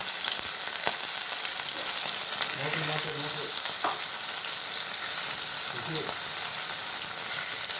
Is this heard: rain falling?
no